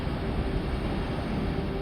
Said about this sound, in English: The sound of the winds from a tiny moon nearly 1 billion miles away.